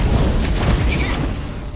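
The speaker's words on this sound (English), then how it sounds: "Target the traps and she will block the fire." A fire trap blasts flames in the VR game Asgard's Wrath, a loud, sustained roaring rumble that fills the whole moment and tapers slightly at the end, with game sounds layered in.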